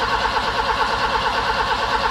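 A car engine cranking but not starting after sitting idle, fresh spark plugs fitted, a steady rhythmic churning of the starter motor, close and continuous, with no firing.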